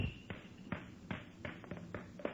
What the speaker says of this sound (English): Did you hear him slam that door?